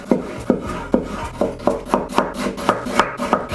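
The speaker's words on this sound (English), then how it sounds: "again evenly chop them." Knife chopping two tomatoes on a cutting board, about nine evenly spaced thuds coming steadily and speeding up slightly, close and clear with no talking.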